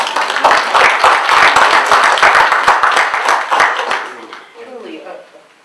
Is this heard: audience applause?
yes